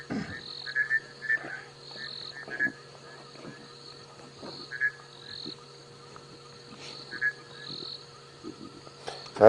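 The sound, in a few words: bushveld rain frogs calling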